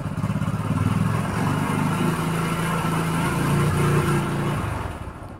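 An engine powered by a DIY LiFePO4 battery is revved. It gives a continuous loud, throaty motorcycle-like drone with slight swells in pitch and close pulsing, and it eases off at the end.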